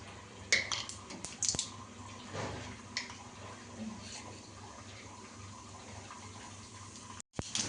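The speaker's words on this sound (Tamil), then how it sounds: "கடுகு, உளுத்தம்பருப்பு நல்லா பொரிஞ்சிட்ருக்கு" Mustard seeds and urad dal splutter in hot oil as a faint, scattered crackle and pop. A few sharper pops stand out early, over a low kitchen background with no voices.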